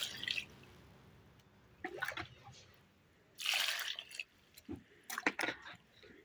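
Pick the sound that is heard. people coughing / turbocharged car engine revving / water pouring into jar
water pouring into jar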